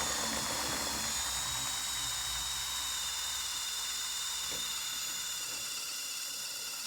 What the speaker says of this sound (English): Position your step drill in the hole and drill it to 1/4 inch.